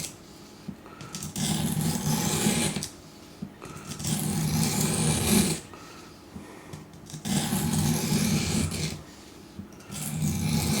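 A knife blade drawn along the stone of an Apex Edge Pro sharpener, giving long, steady abrasive rasps repeated in several even strokes with brief pauses between them, close and fairly loud.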